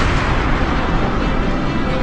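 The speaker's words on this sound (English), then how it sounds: "So a supernova is a star that ends its life in a massive explosion." Supernova explosion sound effect: a dense, sustained roaring blast with rumbling low-end energy, loud and unbroken for the full length with no voices over it.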